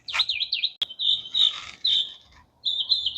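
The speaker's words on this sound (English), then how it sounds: "That bird is like, I'm happy about your garden tour." A bird in a Florida garden chirps in quick, bright trills and repeated high tweets, fairly close and clear, with one sharp click and a short pause before it resumes.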